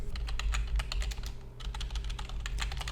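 Rapid keystrokes on a computer keyboard as a command is typed, a close, steady clatter of individual clicks with a brief pause midway, with no talking.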